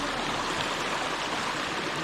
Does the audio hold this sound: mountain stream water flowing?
yes